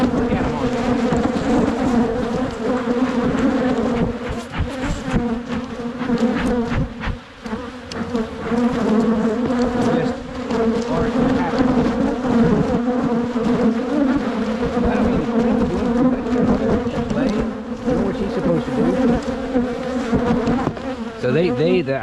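Agitated honey bees swarm around an opened hive box in spring, a loud, dense, continuous buzzing drone right at close range, with occasional brief human voice under the hum.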